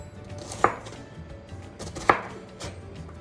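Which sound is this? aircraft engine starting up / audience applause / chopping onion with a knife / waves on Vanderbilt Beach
chopping onion with a knife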